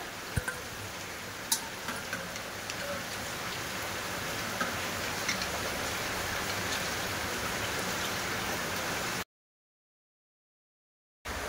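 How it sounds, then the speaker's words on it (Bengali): Basmati rice being washed with water in a bowl, a steady close trickling and swishing with a few sharp ticks, stopping into silence before a brief return. "এবার জল দিয়ে ভালো করে পরিষ্কার করে ধুয়ে নেব চালটা"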